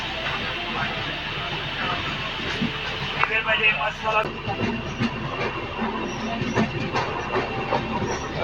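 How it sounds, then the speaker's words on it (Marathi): A passenger train runs on rails during a rainy monsoon trip from Diva to Sawantwadi, giving a steady, close rumble of wheels and carriages with occasional rattles, while people talk nearby. "सावडवरनं ट्रेन सुटली आता"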